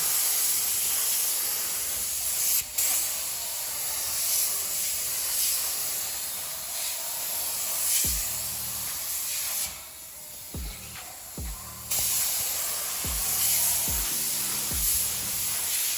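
Spray gun painting the bumpers of a Tofaş car, a continuous close airy hiss with short breaks and faint low thuds, steady in loudness.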